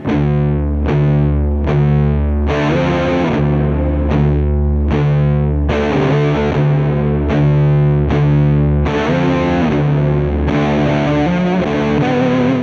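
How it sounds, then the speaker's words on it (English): A heavily distorted electric guitar played through a Walrus Audio Melee pedal with reverb, loud sustained chords struck in a steady rhythm, each washing into a thick wall of sound, with no talking. "we'll take a look at the different distortions now with this reverb setup like it is"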